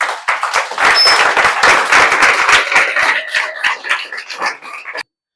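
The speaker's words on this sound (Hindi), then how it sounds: "तो एक बार खड़े होकर तो ताली होना ही चाहिए" A classroom audience at a mathematics coaching session stands and claps, a close, loud burst of many hands that holds strong and then thins and fades before stopping.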